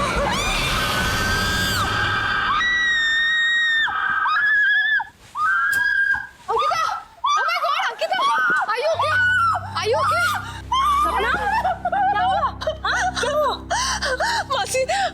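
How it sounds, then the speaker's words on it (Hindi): A girl screams in fear in a horror drama. Several long, shrill cries and gasps are followed by frantic whimpering and yelling over eerie low background music. "क्यों चिल्लाई तुम?"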